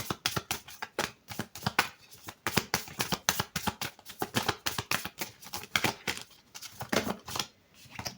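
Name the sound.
playing cards being shuffled and laid out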